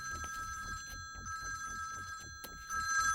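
A phone rings with a repeated electronic tone, steady and continuous over a low rhythmic thumping background, with no speech.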